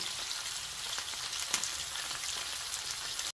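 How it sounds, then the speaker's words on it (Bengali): Hilsa fish fries in a pan of oil, giving off a steady, dense crackling sizzle at close range that holds evenly throughout, with no voices over it. "ইলিশ মাছ ফ্রাই হয়ে গেল।"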